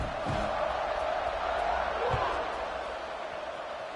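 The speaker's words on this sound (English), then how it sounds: "this crowd is buzzing after that last score" College football stadium crowd during a game against Maryland, late in the first half just after a score: a loud, steady roar and murmur of many voices filling the space, with a couple of faint thumps under it.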